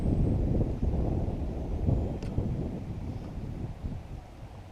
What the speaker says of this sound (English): Wind is blowing really hard.